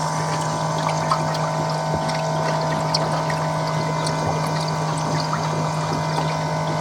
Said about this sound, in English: Water being strained through 2 sets of K1 media.